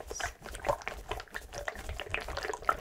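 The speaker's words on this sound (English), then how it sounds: "Listen to the water sound." Water trickles and splashes gently in an irregular pattern, close and soft, with small bubbling pops throughout, as part of an ASMR personal attention session.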